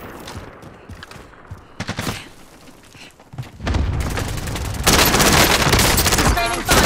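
Gunfire in Call of Duty: Modern Warfare multiplayer: scattered single shots and thumps early, then sustained loud automatic bursts that build toward the end.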